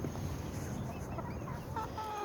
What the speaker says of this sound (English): my chickens will hop for bread